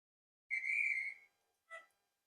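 A model railway locomotive sounds its whistle: one sustained tone of about three-quarters of a second, then a short second toot after a brief gap, clear against a quiet background.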